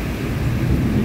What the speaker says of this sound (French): Imaginez, c'est juste un orage, ça, là.